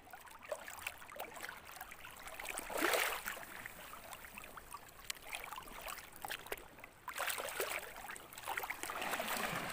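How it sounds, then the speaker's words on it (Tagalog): A strong river current surges past, a broad, rushing wash of water that swells and recedes in uneven waves, fairly faint overall with no voices. "Pero malakas yung agos"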